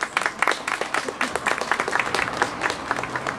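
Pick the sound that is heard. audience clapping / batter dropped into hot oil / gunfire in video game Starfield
audience clapping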